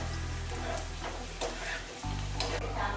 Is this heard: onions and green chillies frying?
yes